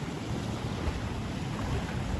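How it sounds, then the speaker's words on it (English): Sea water and a breeze at the Maldives make a steady, full rumble of wind and lapping waves, with gusty microphone buffeting and no voices. "I don't know whether you can feel the breeze or you can hear the voice of the water."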